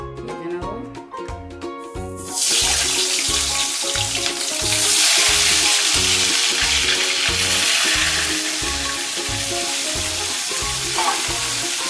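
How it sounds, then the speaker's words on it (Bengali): Crab frying in oil in a pan for a crab and potato curry gives a loud, steady broadband sizzle that starts after about two seconds of quieter kitchen clatter and continues without letup, with light stirring and no speech. "আলুটা নামিয়ে রেখে এবার কাঁকড়াটা ভেজে নেবো।"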